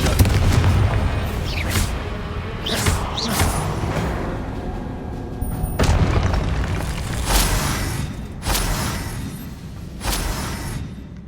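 Fiery spell blasts in the Hogwarts Legacy video game, a series of loud booming explosions with crackling, shattering tails, spaced a second or two apart over game ambience.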